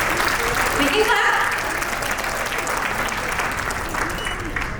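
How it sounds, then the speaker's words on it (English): Sustained audience applause at a fundraising event, a dense, steady wash of many hands clapping at close range throughout, gradually easing slightly toward the end. "we can clap"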